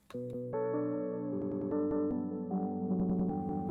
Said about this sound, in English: sometimes the gross beat gets applied and it sounds like this